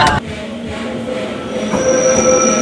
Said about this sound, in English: And this little train goes every 20 minutes, every half an hour, runs from Lugano to Ponte Tresa.